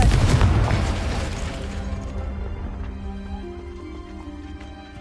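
A Confringo fire spell going off in the Hogwarts Legacy video game, a loud explosive boom at the start that rolls and decays over several seconds into a lingering tonal rumble, with no talking.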